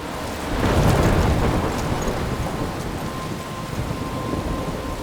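A thunderstorm rumbles with a loud thunder roll near the start over steady heavy rain in the video game Life Is Strange, the downpour hissing on continuously.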